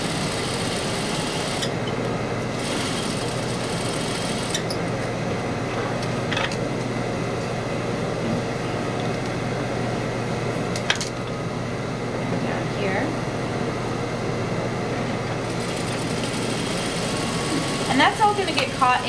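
Sewing machine stay stitching across a pants waistline, a steady mechanical hum running throughout with a few faint clicks, mostly alone and close.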